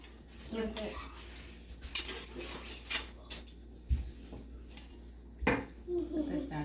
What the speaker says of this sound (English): now gonna give it a little mix like this first so then the flour doesn't fly everywhere